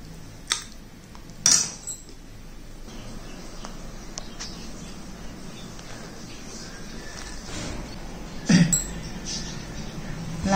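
Sprouted horse gram curry (kuzhambu) is served onto a plate, with a few sharp clinks of a metal spoon against a steel vessel over quiet room tone, with some speech in the background.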